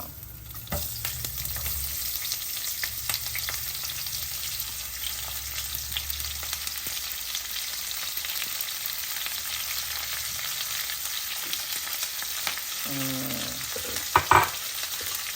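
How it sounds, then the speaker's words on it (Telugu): Whole spices frying in a pan for pudina rice, a steady close crackling sizzle with scattered pops and a few utensil clinks toward the end, no voices. "మన స్పైసెస్ బాగా వేగిపోతున్నాయి"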